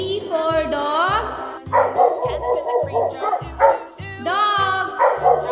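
A dog barks and yips in a quick series of sharp, close barks, with a whimpering whine near the start and end, set over a pulsing children's song beat.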